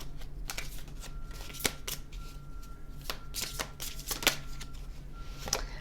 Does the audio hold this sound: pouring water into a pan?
no